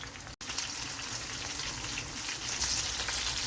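Small anchovies (netholi) frying crisply in a pan of hot oil, a dense continuous crackling sizzle close by, briefly cut out at the very start, then steady to the end.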